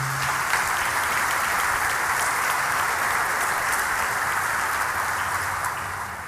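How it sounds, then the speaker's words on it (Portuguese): A church congregation applauds a testimony with a broad, steady wash of clapping that holds evenly throughout and eases off slightly at the end. "Vamos aplaudir esse testemunho maravilhoso."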